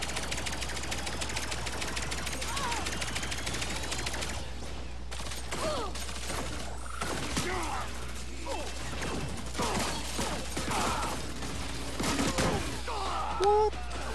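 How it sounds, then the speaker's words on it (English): Rapid gunfire from the first-person shooter Lawbreakers, dense clattering bursts running through most of the stretch alongside game effects and occasional voices. "I'm shooting."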